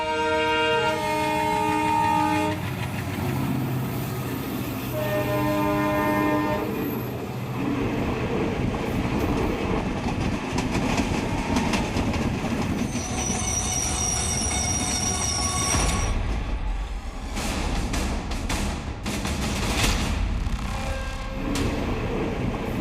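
Train rolling along a railway track with a steady heavy rumble, repeated high metallic wheel squeals and clattering rail noise for over twenty seconds, no voices.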